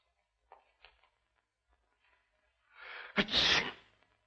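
A single loud sneeze bursts out in a cold room, preceded by a sharp inhale and a couple of faint catches of breath, then quiet.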